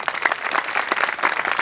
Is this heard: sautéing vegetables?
no